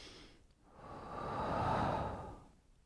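A single deep breath with a long, slow exhale through the mouth during a core-strength breathing exercise, soft and close, swelling gradually and then fading, with no talking.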